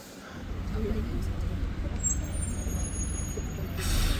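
A bus pulls in at Alton Towers amid steady low engine rumble, with a brief hiss of its air brakes partway through. The scene has outdoor background noise.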